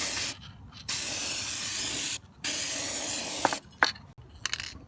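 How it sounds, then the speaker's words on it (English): Fluid Film corrosion inhibitor is sprayed onto a corroded area around a car wheel in long, loud, close hissing bursts separated by short gaps, ending with a few brief spurts. "I've seen that I have some corrosion here, so I'm gonna spray them as well"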